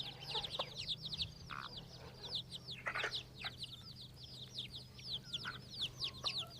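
Chicks peep in a busy, continuous chorus of high chirps while a bantam hen clucks now and then among them, with guinea fowl nearby; the sounds are faint and steady over a low hum.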